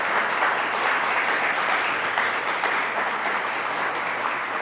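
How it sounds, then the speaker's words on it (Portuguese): A church congregation applauds together, dense continuous clapping that fills the room at steady volume throughout, with no voices standing out. "Em nome de Jesus, vamos aplaudir ao Senhor e a sua palavra."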